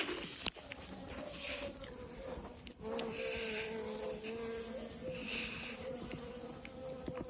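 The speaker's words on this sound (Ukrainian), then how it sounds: "Так от бджоли почали літати." Bees fly around a spring dacha garden, a soft, steady buzzing hum from several insects drifting in and out, quiet throughout with one small tap early on.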